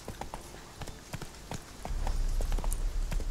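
Horse hooves clop in a quick, steady galloping rhythm in The Witcher 3, with a low rumble building up underneath partway through.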